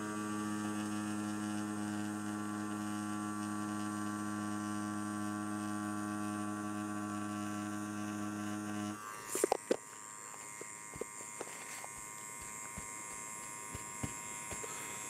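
A rotary tattoo machine running at 8 volts with a 7-round liner gives a steady, smooth electric buzz with a strong hum for about nine seconds. Then it stops, and faint clicks and handling sounds follow.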